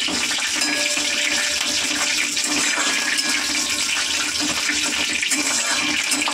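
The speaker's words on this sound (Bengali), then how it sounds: "ফোড়নটা দিয়ে দিই।" Whole cumin seeds, a dried chili and bay leaf sizzling in hot oil while cooking a vegetarian dish, a steady dense crackling hiss that stays loud and continuous throughout with no talking.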